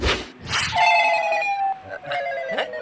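A telephone rings at night in a home, with repeated electronic trilling tones that come through clearly and fairly loud. Brief voices or noises are heard around the rings.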